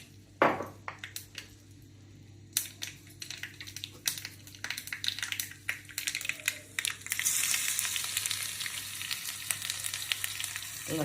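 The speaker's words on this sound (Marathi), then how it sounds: "हां, चटचट आवाज आहे." Asafoetida hits hot oil in a pan while frying: scattered sharp crackles and pops at first, building into a denser, continuous sizzle toward the end, close and fairly quiet.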